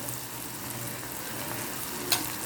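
A hot tempering for sprouted mung bean curry sizzles steadily and softly in a pan, a constant close crackle with one brief sharper click near the end.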